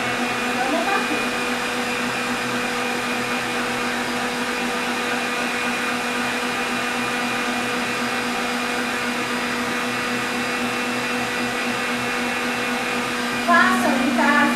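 An electric mixer beating a heavy cake batter, a steady loud motor whine with a constant pitch running throughout, with a brief clatter near the end.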